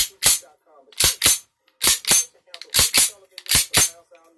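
A .45 ACP 1911 B45 Duty pistol is handled, giving sharp, crisp metallic clicks and clacks in close pairs, about ten in all, separated by silence with no rattle.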